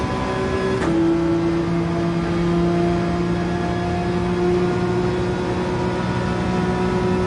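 Race car engine in Gran Turismo 7 held at full throttle, a steady loud droning whine with a sharp gear-change step near the start, sustained and alone without talk.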